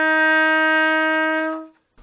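A single sustained F on a trumpet, played with the first valve pressed, rings out clear and steady for about a second and a half before tapering off, with no other sound around it.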